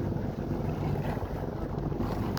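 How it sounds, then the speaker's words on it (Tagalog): A boat powered by two gasoline engines drones steadily on the water, a constant low rumble mixed with gusty wind noise against the microphone. "Dalawang double na makina yan, dalawang makina ng klase makina yan, sa di gasolina din, dalawang makina"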